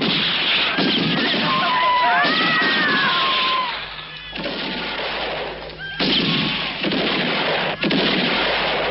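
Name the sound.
gunfire in a western film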